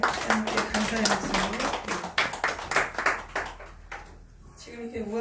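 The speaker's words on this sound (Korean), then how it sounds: "하나님께 영광의 박수, 하나님께 감사의 박수" A church congregation at a national emergency prayer meeting claps together in a quick, steady burst of applause. A voice speaks over the first part, then the clapping thins and fades.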